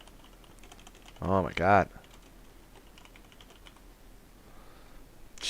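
Faint, light clicking of typing on a computer keyboard runs in scattered patches, briefly interrupted by a short spoken exclamation.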